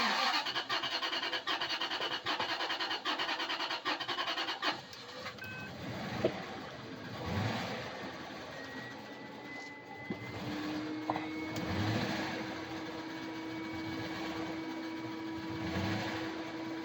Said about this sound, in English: is starting the car, this key, but it is running horribly. It's definitely missing, it's backfiring